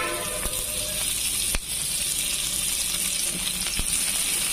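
Oil sizzles in a pan with onions, giving a constant bright crackling hiss with a couple of sharp clicks or taps standing out, fairly loud and close with no talking.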